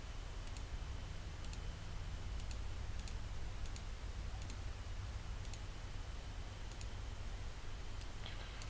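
A computer mouse clicks steadily while video is edited in Shotcut, about one sharp click per second at a regular pace, quiet and close over a low hum.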